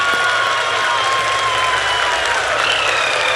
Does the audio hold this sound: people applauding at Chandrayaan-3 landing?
yes